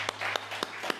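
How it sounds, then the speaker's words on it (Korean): Church congregation claps after a Sunday worship service, four sparse, distinct hand claps spaced across a second against a quiet low hum. "우리 하나님께 영광의 박수 올려드립시다."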